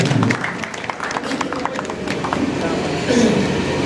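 An audience in an election campaign meeting hall applauds to welcome guests to the stage, a dense patter of clapping that continues throughout at moderate level, with some voices mixed in.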